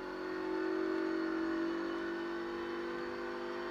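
In the Need for Speed Heat racing game, a truck engine drives past, a steady tonal drone that swells and then eases, moderately loud with no talk over it.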